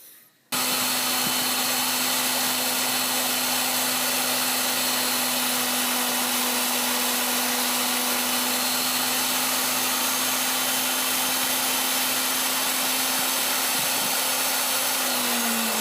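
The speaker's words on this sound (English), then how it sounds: "we're going to take another trial grind and see if we can't get some of that out of it" A grinding head takes a trial pass on R8 tooling for a Bridgeport milling machine, giving off a steady, even whine and hiss that runs for the whole stretch at moderate level and then tapers near the end.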